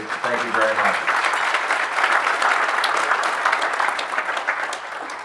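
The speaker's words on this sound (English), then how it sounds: "give yourselves a round of applause" Sustained applause from a gathered crowd at a Pinal County service club event, full and steady, with a voice briefly heard at the start.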